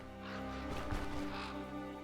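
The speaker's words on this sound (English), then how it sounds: "Those are just birds." Crows caw repeatedly in the video game Stoneshard, several harsh calls over steady ambient game sound, moderately close and clear with no talking.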